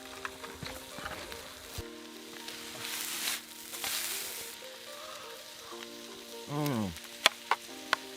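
Grilled cheese with egg frying over a campfire out in the snow, giving a steady crisp sizzle with brief bursts of louder crackle, close by and with no talking.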